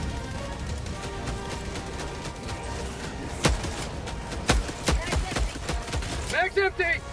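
Gunfire in the Helldivers co-op shooter game: a dense, busy battle mix with scattered sharp shot bursts and impacts, growing more frequent toward the end, with players' voices in the mix.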